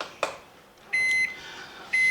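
Microwave oven finishing its cycle after warming milk, giving a short series of bright electronic beeps in a quiet kitchen, preceded by a faint click.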